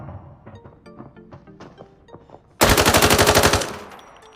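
Bursts of continuous automatic gunfire in the video game Arena Breakout: a loud, rapid rattling stream of about a dozen shots that begins abruptly after quieter background sounds, then tails off.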